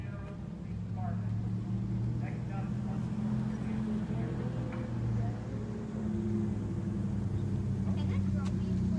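A truck engine idles close by at a police response to an armed suspect in Santa Rosa, a steady low rumble that holds throughout under faint, muffled background activity.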